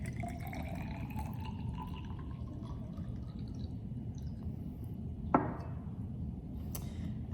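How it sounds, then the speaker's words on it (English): Liquid poured into a graduated cylinder in a classroom demonstration, a steady soft trickle throughout with a rising fill tone and one sharp glassy clink partway through. "so we're going to pour off another one"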